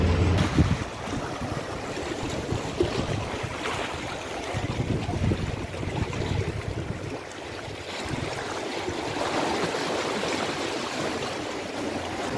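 Continuous wash of Mediterranean sea waves rolling on the shore at Genoa, mixed with gusty wind noise, steady and fairly loud without any talking.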